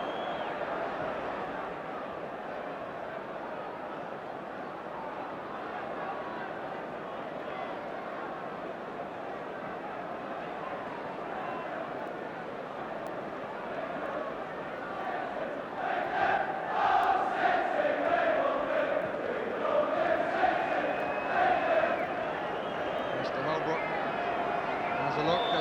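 A football crowd at a Manchester City v Wimbledon match chants "Here we go", a broad, distant roar of massed voices that swells and grows rhythmic in the second half, with a commentator's voice faint beneath.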